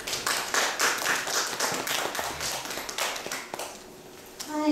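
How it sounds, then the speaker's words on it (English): A small audience at a library talk claps briefly in a modest, uneven burst that thins out and stops, followed by a speaker beginning to talk. "a big round of applause"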